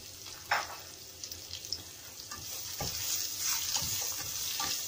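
Pork being stirred with seasoning in a frying pan, a steady sizzle with scattered scraping stir sounds and a few louder clinks, close and alone without talk.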